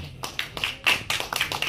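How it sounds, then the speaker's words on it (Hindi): Applause from an audience at a film trailer press conference in Lucknow, a brisk burst of many hands clapping with sharp, uneven slaps that rise and fall over a couple of seconds. "एक बार जोरदार तालियां हो जाए लखनऊ"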